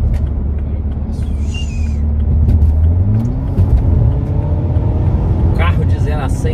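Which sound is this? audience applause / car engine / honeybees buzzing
car engine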